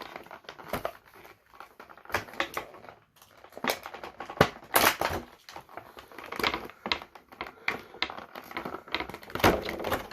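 Plastic packaging being cut open on a NECA Teenage Mutant Ninja Turtles Splinter figure, with irregular crinkling, snipping and crunching noises coming in close bursts over about ten seconds, and no talking.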